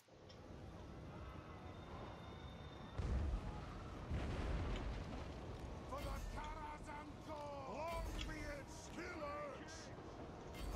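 Cannons firing in the fantasy battle game Total War Warhammer: a heavy boom followed by rolling explosions and battle clamor, with wavering shouts over a dense roar and commands spoken throughout.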